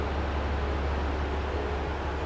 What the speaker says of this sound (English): That's your Metro Mover.